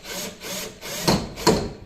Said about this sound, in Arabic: ده مسمار يا جماعه بورمه بنربطه بنفك عادي، اي حد يربطه بنفك ونروح رابطينه كده